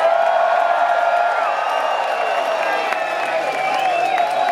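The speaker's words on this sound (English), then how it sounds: "one more large round of applause" A crowd at a rock concert at the Academy in Dublin, December 2023, keeps up loud, continuous cheering and applause, with whistles and shouts rising above the roar throughout.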